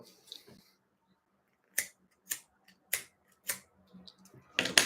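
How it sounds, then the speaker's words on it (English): Cheap lighters clicked repeatedly and failing to light, heard as four sharp, evenly spaced clicks close by in a quiet room, then a faster burst of clicking at the end. "All these dead ass lighters trying to light a blunt."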